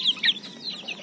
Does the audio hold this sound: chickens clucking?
yes